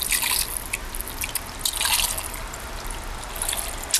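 Hot vegan chicken long rice broth pours into a bowl, a continuous close splashing and trickling with bright drips, steady for a few seconds.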